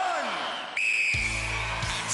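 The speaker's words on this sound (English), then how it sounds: "Tim, you will start on my first whistle." A referee's starting whistle at a 1993 Gladiators UK quarter-final event: one sharp, piercing blast of about half a second, followed by loud crowd noise and music.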